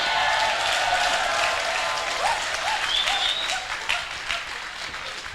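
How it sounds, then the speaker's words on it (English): Sustained, loud applause from an audience at a leadership talk fills the room, dense and steady before slowly tapering, with faint voices mixed in. "Clap."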